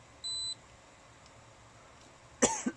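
A short electronic beep sounds early, then quiet hiss, before a quick burst of dry coughing by a man close by near the end.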